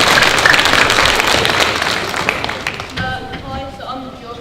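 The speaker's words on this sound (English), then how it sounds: "can we give Josh a massive round of applause?" Audience applause at a school Year 7 assembly, a dense burst of clapping that fades over a few seconds as someone starts talking over the tail.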